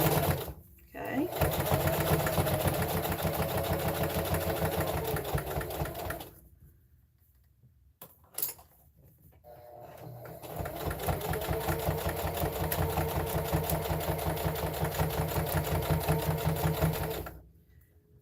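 A sewing machine runs in long steady bursts while stitching a reversible fabric mug rug made from fat quarters, loud and close, with a short pause midway and a brief clack before the second run.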